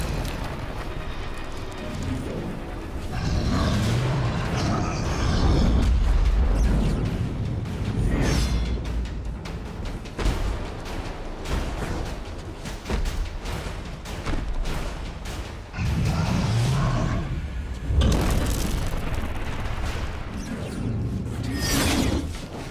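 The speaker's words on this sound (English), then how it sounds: "Each piece is protected by multiple latches that must be destroyed in order to remove it." Armor latches on an ogre being blasted apart in the game Extinction, heard as a dense run of mechanical clanks, crashes and gunfire-like bursts, loud and continuous with heavier impacts in waves.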